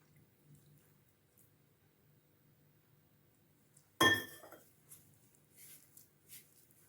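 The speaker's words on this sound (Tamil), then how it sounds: "பத்தாது, கொஞ்சம் தண்ணி சேர்த்துக்கலாம்." Water is added to chicken leg pieces coated in masala for a fry, landing as one sudden splashing clink followed by a few faint drips and small stirring knocks in an otherwise quiet kitchen.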